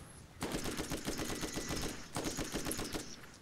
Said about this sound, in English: with your machine gun take them out